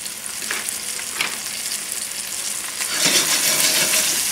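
Chicken thighs fry over a high gas flame in a pan, giving a loud, steady broadband sizzle with a few soft scrapes of tongs or a fork, and the crackle swells near the end.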